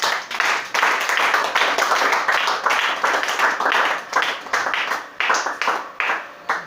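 A church congregation claps together at a Sunday service, loud, steady and rhythmic, continuing for several seconds and breaking into separate bursts toward the end.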